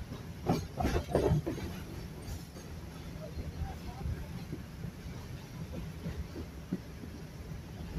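A heritage museum train rides a three-mile stretch of railway line along an original 1859 right-of-way, giving a faint, steady low rumble with a few clicking wheel knocks early on, fairly distant and quiet throughout.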